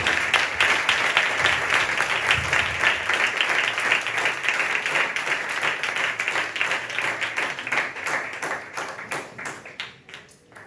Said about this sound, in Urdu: آپ کی تالیاں ہو رہی ہیں